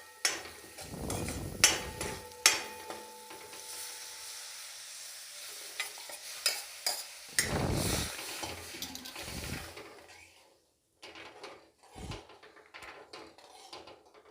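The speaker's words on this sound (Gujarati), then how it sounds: "હવે આપણે દાળ નાખીશું" Tuvar dal poured into a sizzling tempering for Gujarati sweet-and-spicy dal: a loud splash and hiss, then metal spoon clinks and stirring scrapes against the pot, with intermittent sizzle fading to quieter taps near the end.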